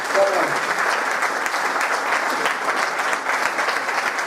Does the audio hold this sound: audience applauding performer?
yes